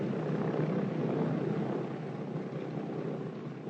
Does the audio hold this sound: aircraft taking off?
yes